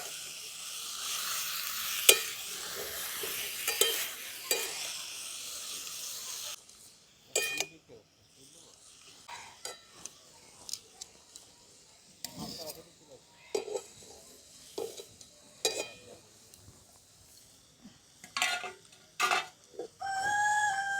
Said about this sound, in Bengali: এবার এই বাঁধাকপিটা এই মশলাটার সঙ্গে ভালো করে মিশিয়ে নিচ্ছি।